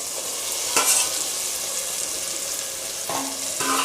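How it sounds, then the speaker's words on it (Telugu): A spoon stirs lightly fried radish and carrot into a tomato curry in a pan, with a steady soft sizzle and a few brief scraping clinks against the metal. "ఇప్పుడు మనము ముల్లంగి క్యారెట్ కొంచెం లైట్గా ఫ్రై చేసుకున్నాం కదండి ఇప్పుడు దీన్ని దాంట్లో వేసి కలుపుకుందాము"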